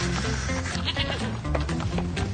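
A goat bleats repeatedly in a TV advert for mozzarella bites, loud and close, its wavering cries layered over a dense, constant background mix.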